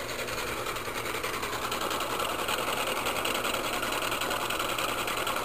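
A simple homemade three-phase AC motor spins with a steady, continuous whirring hum and buzzing rattle, close and constant throughout with no talk over it.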